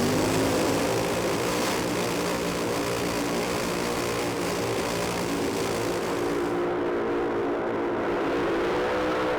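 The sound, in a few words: drag racing motorcycle engine revving down the strip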